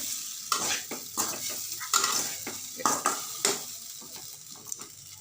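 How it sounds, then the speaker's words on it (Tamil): Masala frying in a pan for sweet corn cutlets, with a steady sizzle under repeated clanking spatula strokes against the pan, close and fairly loud, continuing in an uneven rhythm throughout. "ஸ்பெஷலாக ஃப்ரை பண்ணிகிட்டு இருக்கேன் கொஞ்சம் இந்த மசாலா வாசனை போகணும்"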